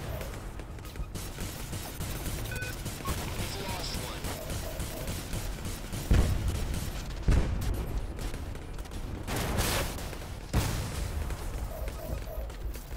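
Spaceship gunfire and missile launches in a zero-gravity video game: rapid, continuous bursts of shots with several heavier booms, loud and busy throughout, with faint talking underneath.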